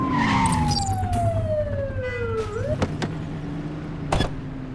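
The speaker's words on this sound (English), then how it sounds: "Get behind them and blip the siren to make them pull over." Police car siren in a PC police video game, a loud wail sweeping downward then cut off, with sharp clicks and vehicle noise around it, no voices.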